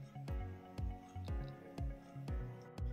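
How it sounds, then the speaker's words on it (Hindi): Water draining from soaked chana dal through a strainer set over a bowl: a steady run of about six distinct drips, evenly spaced about half a second apart, soft and close, each with a brief falling plop. "अब हम एक बाउल लेंगे, उस पर एक स्ट्रेनर रखेंगे और ये दाल को इसमें डालेंगे"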